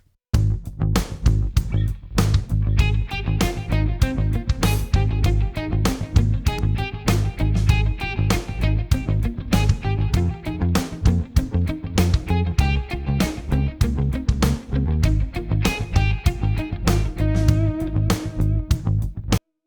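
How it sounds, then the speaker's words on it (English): A distorted electric guitar plays busy, driving notes over a full band, with bouncing stereo delay repeats echoing through the dense mix. "So we've got these nice sort of bouncing, big sort of stereo delay parts in the track."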